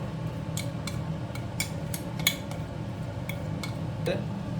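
Tomato pickle spices being stirred in a pan, a series of light metallic clinks and taps from the utensil at irregular intervals over a steady low hum, no voices.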